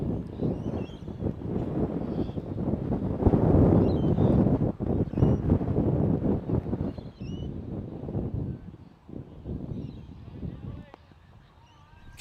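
Wind gusts buffet the microphone outdoors at a cricket match in Australia, a loud, rough, uneven roar that swells and eases over several seconds.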